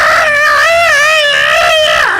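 A man screams after his limb is severed and melted, one long, loud, sustained wavering cry that holds steady before trailing off at the end.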